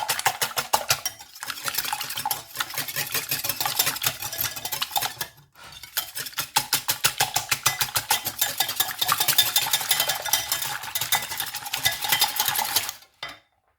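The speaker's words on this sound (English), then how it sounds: "Get yourself a whisk. Combine it together." A whisk beats a milk, egg and cinnamon mixture for French toast in a bowl, producing rapid, loud, continuous rhythmic clinking strokes, pausing briefly twice before stopping near the end.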